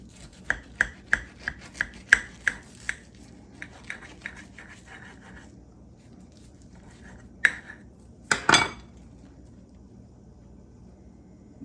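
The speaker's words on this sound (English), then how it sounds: "Cut it on the diagonal" A knife slices through a patty melt sandwich on the diagonal, giving a run of crisp, close cutting taps and crunches followed by a pause, then a few louder scrapes and a final heavy cut against the board.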